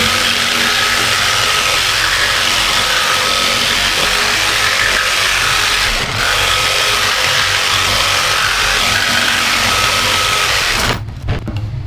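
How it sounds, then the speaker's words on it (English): A jigsaw cuts the outline of a wooden speaker baffle for a 2004 Legacy sound system install, running as a loud, steady, close buzzing rasp for about eleven seconds before stopping abruptly. "Now I need to jigsaw out the outline and we'll be done."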